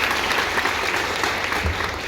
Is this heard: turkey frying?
no